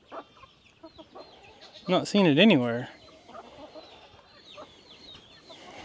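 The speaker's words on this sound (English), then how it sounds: "There you all chickens go." Chickens in a coop give a loud, clear cluck-squawk call, with scattered softer clucks around it, while a person talks nearby.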